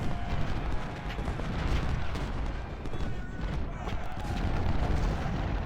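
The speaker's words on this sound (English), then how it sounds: "Get a little bit more artillery fire." Rumbling artillery fire from American Civil War cannons and howitzers in Ultimate General: Civil War, a dense continuous barrage of booms, loud and without letup.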